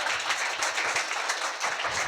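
A church congregation claps loudly together during a Telugu sermon, a steady, dense wash of many hands that swells and dips slightly but never stops.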